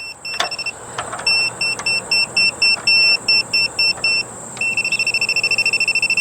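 A non-contact voltage tester held against a live black wire feeding a radon fan unit beeps in a rapid, steady pulsing pattern of high-pitched chirps, loud and close, with a faint hum behind it.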